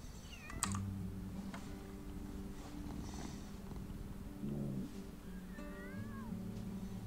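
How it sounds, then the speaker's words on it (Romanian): A young lynx kitten gives a few thin, rising meows, with a soft steady purr underneath and faint clicks, quiet and close. "Face miau."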